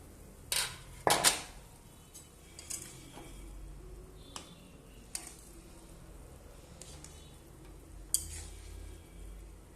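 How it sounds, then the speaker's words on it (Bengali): A metal lid lifted off a pot of boiling potatoes for a fish and potato dish, with two sharp clattering clanks near the start and a few softer knocks over a quiet bubbling background. "ঢাকনা খুলে দেখে নেব আলু সিদ্ধ হয়েছে কিনা"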